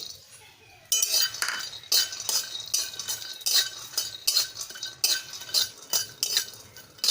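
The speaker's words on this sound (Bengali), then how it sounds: "এখন এই গরম কড়াইয়ে বাদামগুলো ভেজে নেব।" Peanuts roast in a hot wok on a stove, stirred so they rattle and clink against the metal in quick irregular bursts after a quiet start, close and fairly loud, with no talking.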